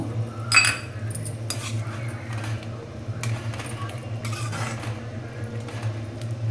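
Ragi flour soup being stirred in a cooking pot, with a metal spoon clinking and scraping against the pot in short repeated bursts over a steady low kitchen hum.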